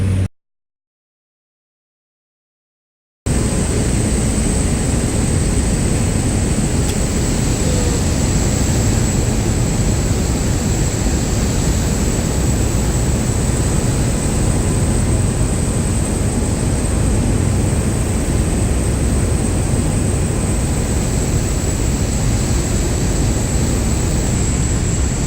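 Steady, loud engine drone fills the cabin of a small plane flying in whiteout IFR conditions on the way into Fort Yukon, Alaska, unchanging throughout after a brief silent gap at the start.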